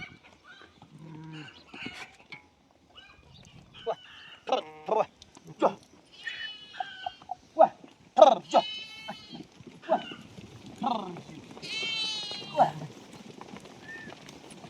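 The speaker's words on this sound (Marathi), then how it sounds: "चालल्या मेंढ्या आता" Sheep bleating as a flock moves along outdoors, with repeated wavering calls from several animals, some near and some farther off, and people talking at times between the calls.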